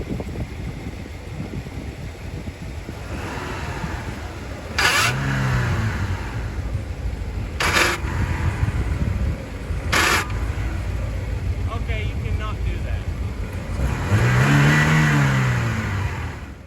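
A Hyundai car engine bought for ten dollars idles steadily close by, then revs up in several sharp bursts, with a longer rising rev near the end and a voice speaking briefly over it.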